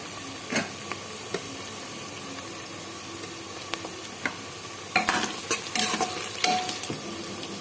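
Onions browning with ginger and garlic paste for a goat meat curry in a pressure cooker give a steady, close sizzle, with sharper stirring scrapes and spatters growing busier toward the end.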